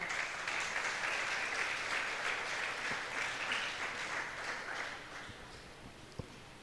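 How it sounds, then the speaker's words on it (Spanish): A church congregation claps together in a steady burst that tapers off toward the end, with a couple of louder isolated claps or knocks near the finish. "Esos niños, denle ese aplauso al Señor."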